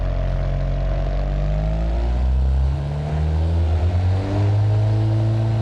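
Simulated older Ferrari engine in the car-building game Automation Tycoon, revving steadily with rising and falling harmonic tones, loud and continuous, with no talk over it.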